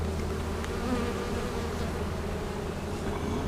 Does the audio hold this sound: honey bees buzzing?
yes